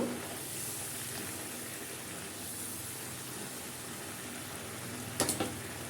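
Coriander powder stirred in a sizzling frying pan while cooking chickpea bhuna: a steady, soft frying hiss throughout, with a couple of brief scraping clicks from the spoon near the end and no speech.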